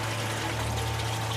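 Water from a hose pours into a boat's livewell, a steady, close rushing and splashing stream that carries on without a break under a low hum.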